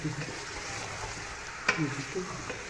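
Mutton and potatoes fry in a pot for aloo gosht salan, a steady low sizzle running throughout with one sharp clink of utensil on pot midway, close and moderately quiet.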